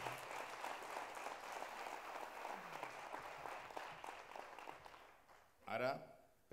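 An audience gives sustained applause at a Fallas exaltation ceremony in Albalat dels Sorells, dense clapping that fades out, followed by a brief louder burst of noise at the end.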